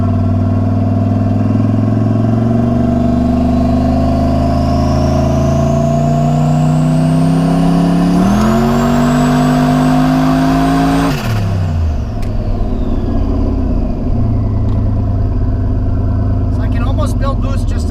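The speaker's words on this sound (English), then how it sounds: "Build boost just on the foot brake." A turbocharged LS-swapped 4x4 Ford Ranger held on the foot brake, its engine droning and rising in pitch as boost builds, then dropping off sharply, loud and close throughout.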